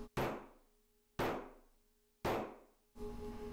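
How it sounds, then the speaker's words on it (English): A small craft hammer strikes brads flat on a handmade card, three sharp, close taps evenly spaced about a second apart, each ringing briefly and fading, followed by a soft rustling noise. "I always like to hammer my brads flat with my craft hammer"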